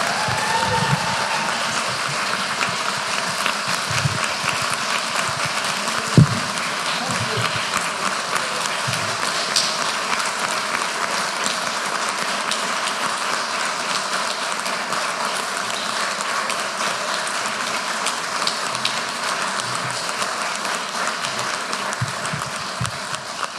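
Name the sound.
audience applause at lecture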